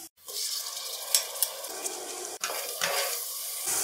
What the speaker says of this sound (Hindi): टमाटर सॉफ्ट होने तक हम भून लेंगे।